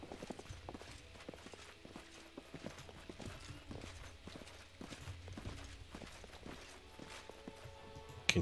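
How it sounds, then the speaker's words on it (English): Horse hooves clip-clop in the fantasy video game Pathfinder Kingmaker, a quiet, rhythmic run of clopping steps with some mechanical clatter mixed in and a sharp sound at the very end. "Caballo."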